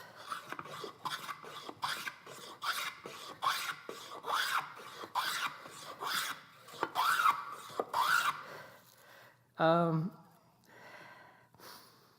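Repeated rasping strokes of a blade shaving wood for a stick chair, steady rhythmic pulls close by, with a louder breathy gasp near the end and no talk.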